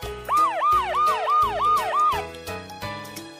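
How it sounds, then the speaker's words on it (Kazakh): An ambulance siren wails loud and close in rapid rising-and-falling sweeps, repeating about six times before giving way to fading horn-like tones. "Жедел жәрдем."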